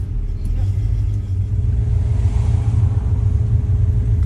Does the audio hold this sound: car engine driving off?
yes